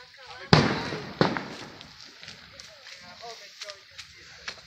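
Fourth of July fireworks in Englewood, New Jersey burst in two loud sharp bangs followed by scattered lighter pops and crackles, heard from under an umbrella while people talk nearby.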